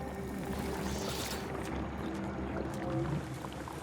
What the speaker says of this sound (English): That is some nasty water